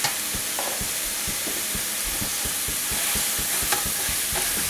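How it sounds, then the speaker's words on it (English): Ground beef seasoned with cumin and smoked paprika fries in a pan for chili dogs, making a steady close sizzle under a regular rhythm of quick scraping stirs as the meat is broken apart. "I'm going to fry this up and break it up into small pieces and just cook this up."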